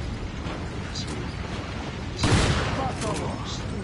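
Machine gun fire in Resident Evil 4 crackles as a sustained noisy barrage, then swells into a louder burst partway through over the ongoing background din.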